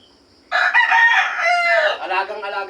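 A rooster crows once, loud and close, in a long drawn-out call that starts abruptly and fills most of the clip.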